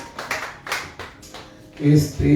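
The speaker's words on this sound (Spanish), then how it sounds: "Démosle un aplauso a Cristo y pueden sentarse." A church congregation gives a brief, loose round of scattered hand claps, a few distinct slaps at first, then a voice speaks over them near the end.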